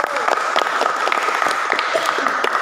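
Continuous applause from a school audience for a vocational high school, SMK Negeri, a steady wash of many hands clapping at even loudness for the whole stretch.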